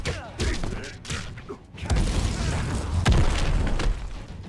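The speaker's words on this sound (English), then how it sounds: "Okay, let's see the explosion damage." Booming explosion with heavy thuds and rumbling mechanical clatter in the MK Mobile fighting game, loud and dense across several seconds with a strong hit near the end.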